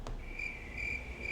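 Crickets chirp in short, evenly spaced bursts over a soft background hiss, steady and moderately close.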